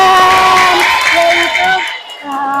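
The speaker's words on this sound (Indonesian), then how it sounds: "Tepuk tangan." A classroom of fifth-grade pupils breaks into brief clapping and cheering, a loud burst of mixed applause and children's voices that fades out after about two seconds.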